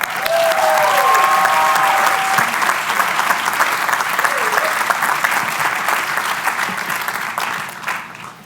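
Sustained, loud audience applause at a Harvard Medical School and School of Dental Medicine Class Day ceremony, welcoming a commencement speaker; dense clapping fills the hall for about eight seconds, with a few whistles early on, then tapers at the end.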